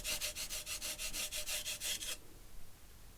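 A steel blade stroked across sandpaper to raise a burr, making a quick series of about a dozen even rasping rubs in steady rhythm, close and fairly quiet, then stopping.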